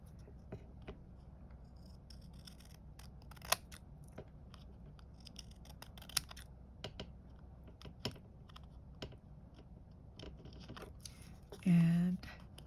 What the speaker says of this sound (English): A little trimming here.